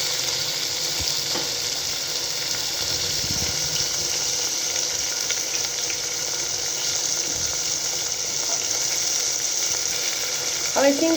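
Chopped vegetables dropped into a hot tempering of oil with curry leaves, chillies, bay leaf, cinnamon and cloves for masala khichdi, giving a steady close sizzle and hiss that runs throughout with a few stirring clinks.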